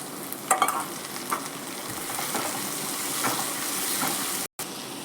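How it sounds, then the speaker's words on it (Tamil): Chopped onion and tomato fry in hot oil for brinjal kulambu, a close, steady sizzle with occasional stirring scrapes and clicks from a spoon in the pan. "நல்லா பொறிஞ்சிருச்சு வெங்காயம் சேர்த்துக்கலாம் இப்போ தக்காளி சேர்த்துக்கலாம்"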